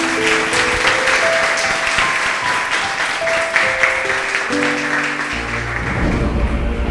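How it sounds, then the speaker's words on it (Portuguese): Loud, sustained clapping from a large church congregation, dense and steady throughout, with low held musical tones underneath. "Louve ao Senhor com suas palmas,"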